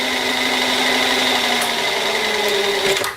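Drill turning slowly through a workpiece with a low-quality bit, a steady whirring motor hum with faint grinding and a few small clicks near the end, close and alone.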